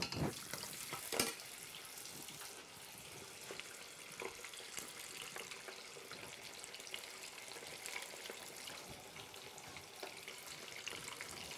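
Prawns (gambas) frying in very hot oil during a live cooking class, a continuous close sizzle peppered with sharp spatters and pops, sustained without talking.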